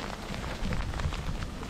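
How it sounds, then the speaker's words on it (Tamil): Hail and icy rain pelt down on a drive along Scottish roads, a dense, steady patter of small impacts that thickens partway through, with no voices. "வாவ், ஃபுல்லாக வந்து ஐஸ் மழை பெஞ்சிட்டு இருக்கு எங்களுக்கு."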